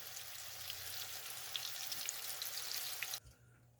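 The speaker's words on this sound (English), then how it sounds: "So once this side's done searing, I'll just lift it up on its sides to get the sides seared also." A beef pot roast sears in a hot pan with a steady, fairly quiet sizzle and scattered pops, cutting off abruptly near the end.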